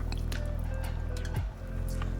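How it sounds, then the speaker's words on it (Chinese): Pieces of live lobster deep-frying in oil heated to about 170°C give a steady, close crackling sizzle with wet bubbling pops throughout, dipping briefly partway through. "接下来就可以炸龙虾了。"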